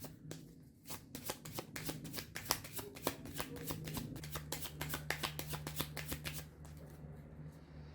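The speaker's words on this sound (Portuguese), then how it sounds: "aqui vamos embaralhar e tirar 2 arcanos" Tarot cards being shuffled by hand at close range, a steady run of crisp riffling flicks over about eight seconds, quiet and alone with no talk.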